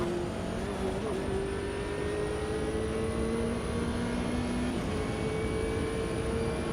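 Race car engine with a sequential shifter in Automobilista 2, during a multi-class Le Mans race: a continuous loud engine whine with sharp pitch drops at gear shifts around one and five seconds, no talking.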